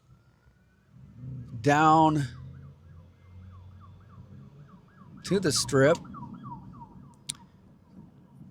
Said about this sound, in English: Police cars, police action going on around here.